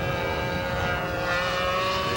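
Small propeller engine of a radio-controlled model airplane at a 1983 model aviation event, a steady continuous buzzing drone held at a constant level throughout while the aircraft flies straight and rolls around its fuselage.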